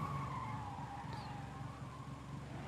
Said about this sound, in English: They don't sound very like real cars. The sound's not authentic, but they look pretty good.